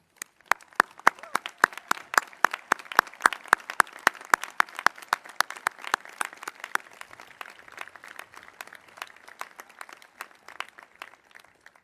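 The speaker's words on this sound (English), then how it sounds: "I'd like the parents of the seniors to stand up and we give them a big round of applause." A crowd at a commencement ceremony applauds steadily for several seconds, many hands clapping at once, with sharp individual claps standing out before the clapping gradually thins.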